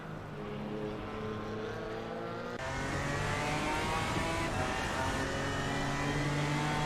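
Porsche and BMW GT4 race cars lapping Donington in a racing video game, engines droning and revving together in a steady, close layered whine with a gear change partway through.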